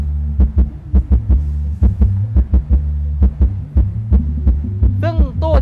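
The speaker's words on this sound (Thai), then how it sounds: "มาฟังในเรื่องของเสียงเบสกันบ้างนะครับ" Bass tones from a TADA Pro 8.4 amplifier driving two 18-inch drivers in turbo cabinets at 4 ohms and 800 watts: a loud, deep sustained bass hum with a steady train of heavy thumping pulses, no voices.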